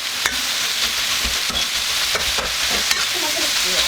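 Mushrooms stir-fry for a vegan spicy jjamppong noodle dish, giving a loud, continuous sizzle close up, broken by occasional clacks and scrapes of a stirring utensil, with no talking.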